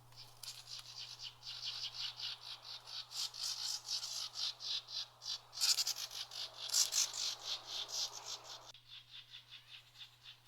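A pair of blue-headed vireos scold and call while mobbing a bird named Blue near their nest. The calls come as faint, repeated raspy chattering bursts in an uneven rhythm over a steady low electrical hum.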